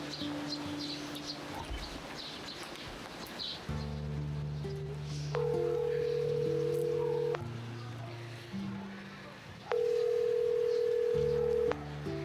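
A phone call fails to connect, steady electronic tones switching between pitches with longer high beeps repeating, heard faintly under a soft background hum.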